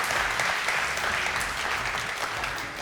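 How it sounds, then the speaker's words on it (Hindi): Dense audience applause in a studio during a televised debate segment, steady and loud throughout, with no voices over it. "बहुत सारी तालियां इनके लिए।"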